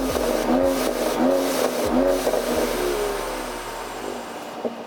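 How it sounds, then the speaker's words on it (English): A Mercedes C43 AMG engine revs in several short bursts, each followed by a whooshing release of air from the blow-off valves, then settles to a low idle. "I want to show you guys what the blow-off valves sound like."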